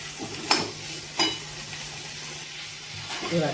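Beans curry of pavta (val) sautéing in oil in a pan, a steady close sizzle with a few sharp scrape-like stirring clicks spaced through it, no talking.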